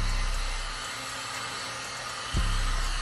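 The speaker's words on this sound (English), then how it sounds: "Just lightly hit it with a heat gun." Heat gun blowing hot air over a cinnamon-topped wax skillet pie candle, a steady rushing whoosh like a hair dryer with a brief thump near the end.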